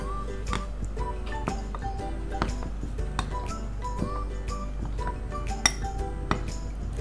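A spoon clinking against a pot while stirring sugar into two kilos of milk, a steady run of light, ringing metallic taps in irregular rhythm over a low hum.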